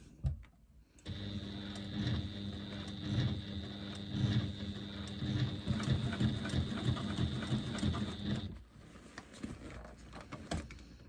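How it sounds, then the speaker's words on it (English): A sewing machine top stitches a woven lambda weave bag, running steadily with a rapid mechanical chatter for about seven seconds after a brief start, then stopping abruptly into quiet. "I'm just top stitching at 1/4 of an inch from the inside of my bag."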